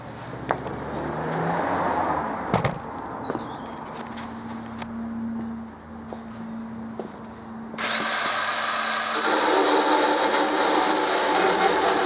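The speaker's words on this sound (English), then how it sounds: "I'm just using a file attachment on the end of a drill just to make this slightly larger" A power drill with a file attachment whirs in short bursts, grinding as it enlarges a hole for a Jeep CJ7 fog light, then runs loud and continuous toward the end.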